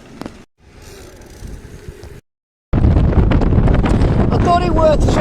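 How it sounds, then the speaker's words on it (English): Strong gusty wind at about 45 to 50 mph buffets the microphone beside a roadside, first as a moderate roar, then after a brief silence as a much louder, sustained blast with short whistling tones near the end. "I thought it worth showing a little video of how windy it is today"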